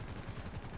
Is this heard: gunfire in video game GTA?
yes